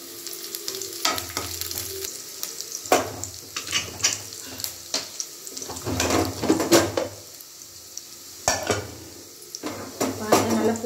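Onions sautéing in a pan with a steady background sizzle of frying, broken by repeated clinks and scrapes of a spoon stirring against the metal, close and fairly loud throughout.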